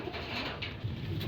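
Pigeons cooing in a loft, soft low murmuring coos close by over a faint room background.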